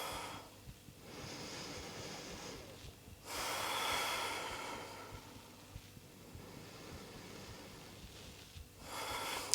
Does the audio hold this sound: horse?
no